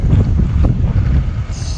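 Steady wind buffets and rumbles across the microphone while a canoe drifts toward a beach off Koh Jum, Thailand, loud and continuous with no talk.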